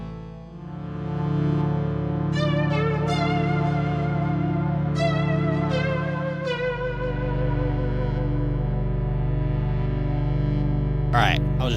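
Instrument chord played through a reverb effect while the effect is adjusted, a sustained low droning tone with wavering overtones, swells and pitch-bending sweeps, then a deeper steady drone in the second half.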